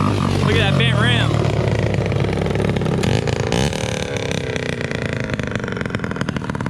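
A motocross bike engine roars loudly on a dirt track, holding a steady, rough drone with rising and falling revs, heard close up beneath talking voices.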